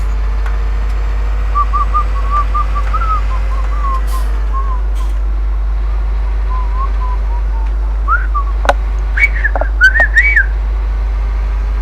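A person whistles a few short, wavering tunes over the steady engine drone of a tractor in Farming Simulator 17, with a quieter stretch early on and a brighter, louder burst of whistled notes near the end.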